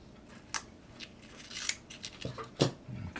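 Scissors snipping tape during a model ship build, a few crisp close cuts spread out, with a louder double snip near the end and light handling noise between.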